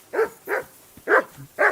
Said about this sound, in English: Jesus, the dogs. Do something with that mutt, Henry